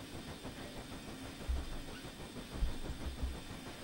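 Steady steam heating hiss from an NZR Class JA steam locomotive in Train Simulator, a continuous broad rush with a low rumbling engine bed and a couple of louder low thumps.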